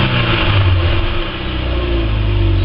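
A Rover engine in a car revs loudly and steadily, a dense, continuous rumbling note held close by with no voices over it.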